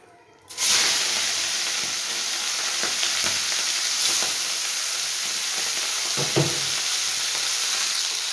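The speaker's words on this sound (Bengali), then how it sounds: "এবার চিংড়ি মাছগুলো ভালো করে ভেজে নেব।" Shrimp drop into hot oil in a wok and a loud sizzling hiss bursts up, then holds steady and close, with occasional faint stirring knocks.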